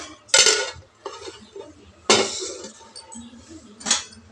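Curry being served from a pot into a serving bowl and onto a plate, three bursts of loud metal ladle scraping and clinking against cookware, separated by quieter gaps of small clatter.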